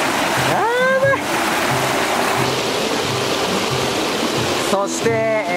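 A mountain river in Doshimura, Yamanashi, rushes steadily and loudly around someone wading in the cold water, a broad continuous wash running throughout, with people talking and exclaiming over it at the start and end.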